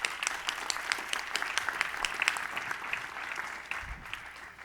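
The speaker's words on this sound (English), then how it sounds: "Let's give all of our panelists a round of applause" An audience applauds panelists at a public discussion event, many hands clapping in a fairly close, lively burst that gradually thins and fades toward the end.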